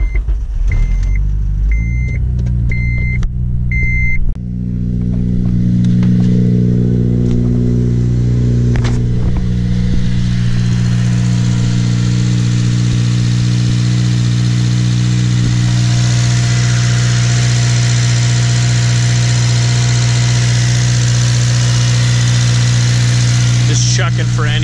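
A Honda Civic Si engine with a modified intake cranks with a few short beeps, then catches and settles into a steady, loud idle hum that continues for a long stretch.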